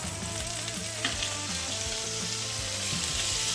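Beef shank browning in a pot for birria, giving a steady, close, loud sizzle and crackle of frying meat throughout, with no talking.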